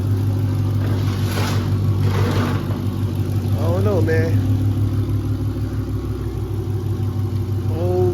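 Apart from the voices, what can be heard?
car engine running, with something knocking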